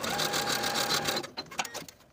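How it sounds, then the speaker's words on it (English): A sewing machine runs steadily, stitching the long raw edge of a folded fabric loop for a pintuck dress, a fast close whir that slows into a few separate stitches and stops. "we're going to sew the longer raw edge with a 1/4 inch seam allowance"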